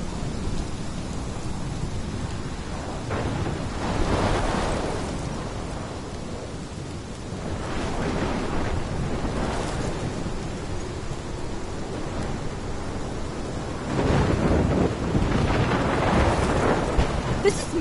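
Rolling thunder and steady rain in a Life is Strange storm scene, a continuous wash of downpour with deep rumbles swelling around the middle and again near the end, loud and enveloping.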